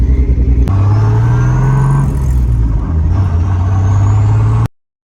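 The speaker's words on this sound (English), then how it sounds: "we're gonna be going on the first ride along in my boy's car" A car engine drones and revs up as the vehicle drives off, with a steady mid-pitched hum rising in pitch, dipping briefly, then climbing again, loud and close with no talking.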